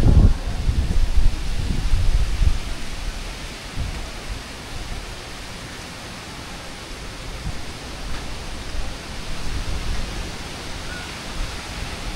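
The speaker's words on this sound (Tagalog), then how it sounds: "Mas malakas ang hangin." Strong wind on a rainy day in Boracay buffets and roars across the microphone, loudest at the start and then settling into a steady rushing blow.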